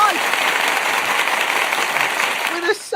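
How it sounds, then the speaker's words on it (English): A dense, steady round of applause from a crowd plays loud and continuous, then cuts off abruptly near the end with a short burst of talk. "Round of applause."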